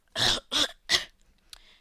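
Three harsh, close coughs in quick succession, followed by a short throat-clearing rasp.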